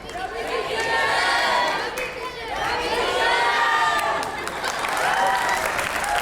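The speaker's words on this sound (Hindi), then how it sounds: "जोरदार तालियां हो जाए" Studio audience at a Hindi talk show applauding and cheering, a loud sustained wash of clapping and shouting voices that swells twice, with excited crowd chatter mixed in.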